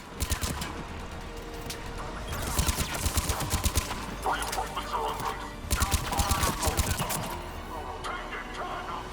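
Gunfire in Mass Effect 3 comes in bursts of rapid shots and impacts during a combat attack, loud and busy, with intermittent voices and other clatter mixed in.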